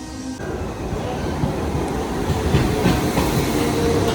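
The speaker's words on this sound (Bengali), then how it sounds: "এখানে ট্রেনটা চলে আসলো" A local train on the Santragachi to Digha line pulls into Mecheda station with a continuous heavy rumble of wheels and carriages, close and fairly loud, with faint rhythmic clatter throughout.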